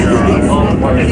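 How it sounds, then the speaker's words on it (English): A helicopter passing overhead near Palm Springs gives a brief steady engine rumble under nearby talk. "Helicopter."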